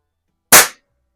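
A single sharp report from a Reximex RPA .177 PCP air pistol, loud and close, one crisp crack that fades in a fraction of a second, with no talking.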